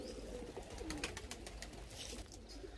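Pigeons coo softly in low, throaty murmurs, with a few wing flutters and light scratching nearby.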